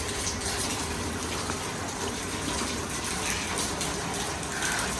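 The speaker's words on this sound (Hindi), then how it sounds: "और देखो कितनी भयंकर बारिश हो रही है।" Heavy monsoon rain pours steadily and densely outdoors near a temple under construction, forming a constant loud broadband roar with no breaks.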